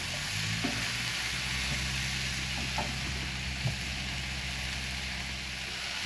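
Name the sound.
stir-fried chicken with leaves and tomatoes tossed in pan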